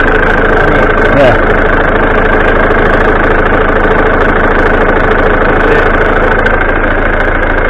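A 1989 Ford Fiesta Ghia, left standing since 2014, idles after being started, its engine running loud, close and steady with a constant rough rumble throughout.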